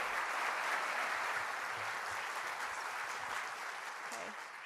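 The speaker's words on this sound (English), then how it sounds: "So please help me celebrate Sophie with a round of applause." Sustained audience applause at a music talk, a dense steady wash of many clapping hands that fills the room and tapers slightly toward the end, with no speech over it.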